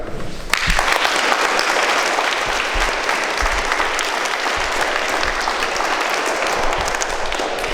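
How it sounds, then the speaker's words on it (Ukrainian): Children applauding to greet veterans at a sports club meeting, a sudden onset of loud, dense clapping that continues evenly and close for several seconds. "щоб ви оплесками привітали наших ветеранів"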